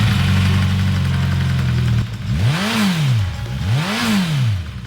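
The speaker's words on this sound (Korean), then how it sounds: "이게 배기 음이 굉장히 제 기준으로 듣기가 좋았어요." A Suzuki GSX-S1000GT sport-touring motorcycle with a short slash-cut exhaust idles with a low, steady burble, then gets two sharp throttle blips that rise and fall back, close and loud.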